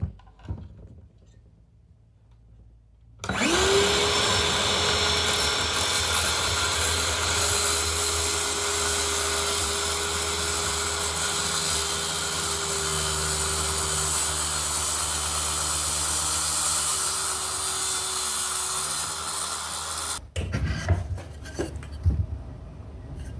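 A circular saw whines loud and steady for about seventeen seconds while cutting a miter angle through wood, then spins down into clatter and handling noise.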